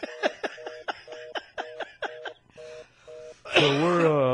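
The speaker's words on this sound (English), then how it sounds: "This is the official ringtone." A rhythmic electronic ringtone of repeated short beeping tones, then a burst of lively voices and laughter cutting in at the end.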